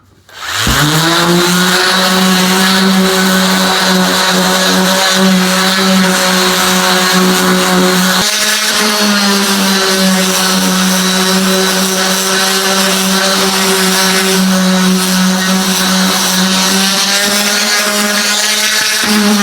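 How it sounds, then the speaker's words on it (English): A power sander works over a wooden piece whose holes have been filled and left to dry, giving a loud, steady motor whine with a harmonic drone. It runs continuously for the whole stretch with only a brief dip partway through, and no one speaks. "we're going to sand it real quick and get it ready to finish"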